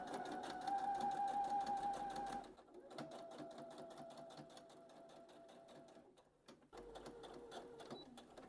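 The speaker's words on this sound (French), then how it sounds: "je vais coudre l'autre extrémité" Sewing machine stitching a jacket seam in fast, steady runs, the motor whine and needle rattle stopping and restarting across several bursts, quiet and close.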